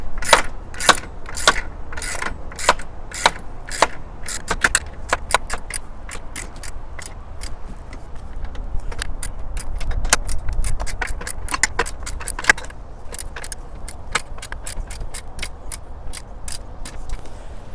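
Hex wrench ratcheting and clicking while tightening the two nuts on a Saris SuperClamp EX hitch bike rack, a steady run of sharp metallic ticks close up over low outdoor background noise, with no talking.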